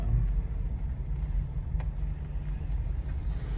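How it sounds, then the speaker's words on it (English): A car rolls along with a low, steady road rumble and engine drone from inside the cabin, fairly quiet and with no talk over it. "Sorry, I'm having to drive here a minute."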